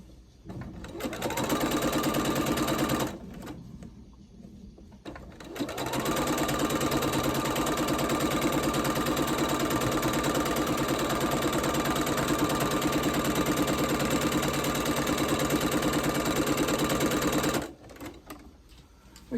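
Sewing machine stitching a quilt block for a Chestnut Grove Nutmeg block-of-the-month kit, running steadily and loud in two long bursts with a short pause between them.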